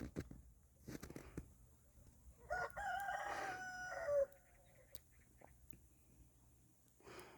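Chickens in a coop on a snowy farm give a rooster-like crow and a few clucks, fairly faint and distant, with soft breathing and rustling close by.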